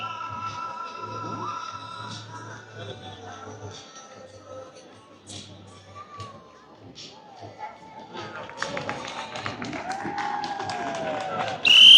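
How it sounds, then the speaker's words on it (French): At an outdoor soapbox derby in Clères, a crowd applauds as soapbox car number 15 passes. The clapping and cheering run steadily under an announcer's voice and grow louder and denser toward the end. "Allez, le numéro 15, on les applaudit,"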